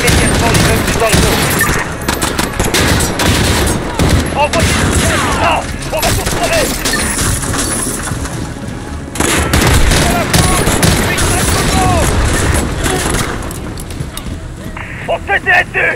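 Gunfire in Call of Duty Modern Warfare, a loud, dense, continuous stream of automatic weapon bursts and shots in an urban firefight around Piccadilly Circus, with radio voices talking underneath.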